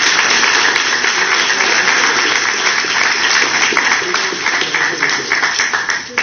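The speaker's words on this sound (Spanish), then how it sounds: "Un aplauso para ellos." A crowd at a legislative event claps steadily for newly sworn-in members, a dense continuous burst of applause that fades slightly near the end.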